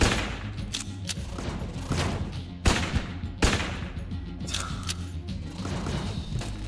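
Gunfire in the game Enter the Gungeon, with rapid bursts of shots and sharp cracks mixed with mechanical clatter, steady and moderately loud throughout.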